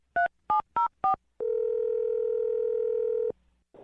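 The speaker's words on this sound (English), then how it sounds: "I'm going to dial her phone number right now" A telephone dials a number with four short, evenly spaced touch-tone beeps, followed by a steady two-second dial tone that cuts off cleanly.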